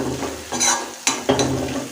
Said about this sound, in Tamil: ஸோ 2 நிமிஷத்துக்கு லோ ஃப்ளேம்லேயே வச்சுட்டு நல்லா வதக்கி விட்டுக்கிட்டேன்.